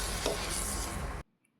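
Spoon stirring cooked sprouted matki (moth beans) into a masala with crushed peanuts in a pan, a dense continuous scraping and sizzling mix that stops abruptly near the end, leaving near silence.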